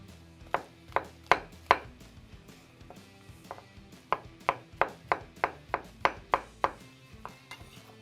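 Knife strikes a cutting board in quick bursts while roughly chopping mushrooms, two clusters of sharp, close taps separated by a short pause, with no talking.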